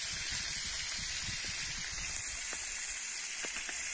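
Fish frying in hot oil outdoors at the water's edge, a steady loud sizzle and hiss filling the whole moment with faint bubbling crackles beneath.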